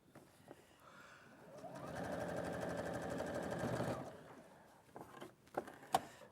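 A sewing machine stitching stable beginner-friendly fabric hums in a steady, rapid mechanical whir for about three seconds, framed by quieter clicks and handling noises.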